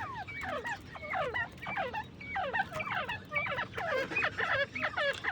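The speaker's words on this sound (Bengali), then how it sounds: "নর্দন বফাইট কোয়েল।" Northern Bobwhite quail at a farm call close by in rapid, chattering bursts that overlap and repeat continuously over a low background hum.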